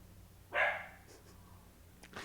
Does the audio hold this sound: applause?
no